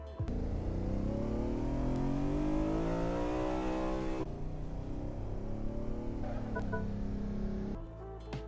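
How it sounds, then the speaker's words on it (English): Engine of an airport taxi truck pulling an A220 airliner, a steady droning motor that rises in pitch as it revs, then settles and drops off near the end. "all you really get to hear is the engine sounds of the taxi truck in front of you"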